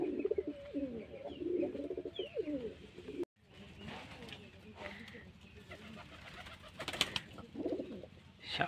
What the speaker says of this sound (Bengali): ভালো ভালো কবুতর ফেলেছে শ্রাবণ